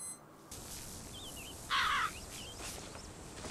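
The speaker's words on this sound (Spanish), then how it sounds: "Mira, un pajarito." A crow caws once, loud and close, in the video game Bioshock Infinite, over a quiet ambient backdrop with faint distant bird calls.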